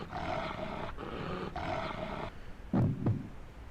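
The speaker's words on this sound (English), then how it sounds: "What was that roaring just now?" A wild animal roar from the video game Chusingura 46+1 rolls out in long, loud sustained bursts, followed by two short heavy grunting blasts, with no talking.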